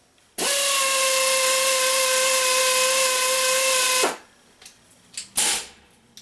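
An SP Air 360° rotational head air ratchet (SP-7770/SP-7772 series) runs on low regulator pressure, giving a steady pneumatic whine with strong tonal lines for about four seconds, then stopping abruptly, followed by a few faint clicks and handling bumps.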